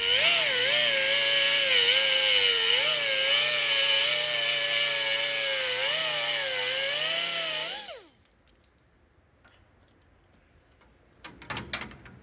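A power tool trims a piece off a Yamaha FZ09 motorcycle to clear room for the radiator. It gives a loud, steady whine with a slightly wavering pitch for about eight seconds, then cuts off abruptly, followed by a few faint clicks.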